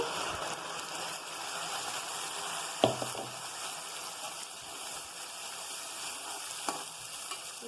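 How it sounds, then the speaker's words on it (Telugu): Tomato paste goes into a sizzling curry-leaf tempering for a drumstick and egg curry, giving a steady broad hiss with a soft splash as it lands and occasional stirring knocks, close and continuous without talk. "పోపు అంతా మగ్గిపోయింది ఇప్పుడు టమోటా పేస్ట్ వేసుకుందాం"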